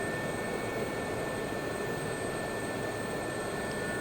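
A Gazelle helicopter hovering in the DCS flight simulator gives a steady, moderately quiet engine and rotor drone with a thin high whine, unbroken and without speech.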